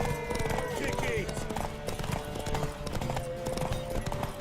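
Hooves of a horse clip-clopping in a steady rhythm in the video game The Witcher 3: Wild Hunt, with a brief whinny and game sounds around it while a character talks over the top.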